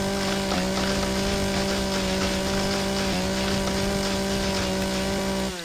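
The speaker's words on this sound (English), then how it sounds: "We got our little space chainsaw." A space chainsaw from Empyrion Galactic Survival cuts wood with a steady, loud droning whine, its pitch dipping briefly twice as the blade bites, continuous and close with no talking.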